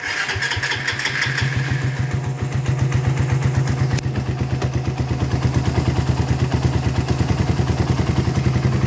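A 206cc motorcycle engine starts and runs steadily, its rapid low putter rising slightly as it revs, loud and close with no talking.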